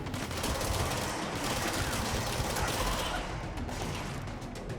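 Sustained, dense gunfire from weapons in the action video game Control roars loudly and continuously, with rapid overlapping shots forming a constant wall of noise.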